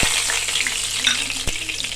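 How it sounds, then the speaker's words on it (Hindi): Hot oil crackles and sizzles continuously as spices are tempered for kadhi pakoray, a bright frying hiss with a sharp pop partway through. "इसको हम हल्का सा तड़का लगाएंगे"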